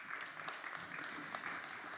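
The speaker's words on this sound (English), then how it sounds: "Applause, please" Applause from a lecture audience at the close of a talk on photonic technologies, steady and fairly quiet, a dense patter of many hands sustained throughout.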